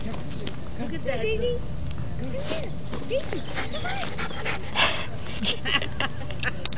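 A dog digging in prairie dog holes at a dog park whimpers and yips in short, high bursts with scrabbling noises, close by, while a person speaks softly in between.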